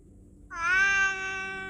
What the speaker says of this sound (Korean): 응답 대신 다시 고양이 울음소리가 들려왔다